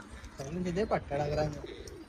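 Soft pigeon coos with a low throaty warble, close by from pigeons in a box, mixed with a person speaking over them.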